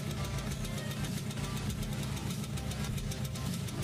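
A Yamaha RZR motorcycle engine with the Y3 block idles steadily, a close, even low rumble with rapid regular pulsing throughout and no talking.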